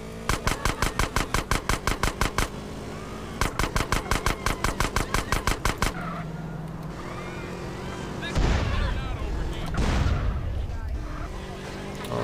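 Vehicles blowing up inside GTA San Andreas: a run of rapid, evenly spaced gunfire-like bursts gives way to two heavy, booming explosions with rumbling tails, with game engine noise and a voice talking over parts of it.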